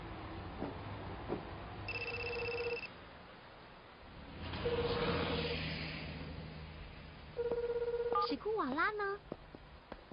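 A mobile phone rings in an animated Hunter × Hunter scene: short electronic ringtone bursts repeat at intervals over a dim background, ending in a rapid warbling tone.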